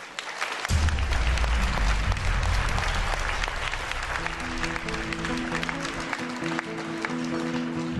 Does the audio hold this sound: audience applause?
yes